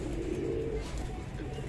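A Lal Ambarsare high-flyer pigeon coos nearby in one brief low throaty call, with a faint murmur of background noise.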